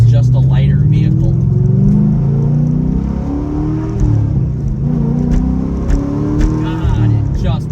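A 2005 Chevrolet Corvette C6 engine pulls hard under acceleration, a loud, deep, rising drone heard from inside the car, with someone talking over it.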